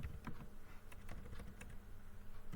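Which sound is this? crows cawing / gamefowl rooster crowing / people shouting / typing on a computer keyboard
typing on a computer keyboard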